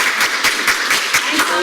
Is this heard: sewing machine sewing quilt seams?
no